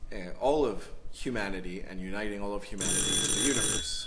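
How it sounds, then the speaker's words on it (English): An electronic phone ring comes in during the second half as a steady, shrill trill, partly masked by continuous talk over it. "Sorry about that phone call."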